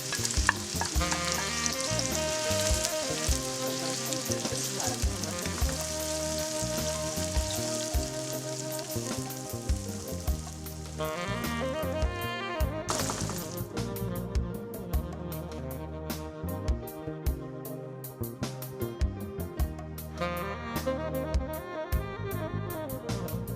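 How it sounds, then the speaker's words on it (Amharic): Onions and garlic fry together in hot oil for a kale (gomen) dish, a continuous close sizzle with stirring scrapes running throughout, no talk. "hear that sizzling sound."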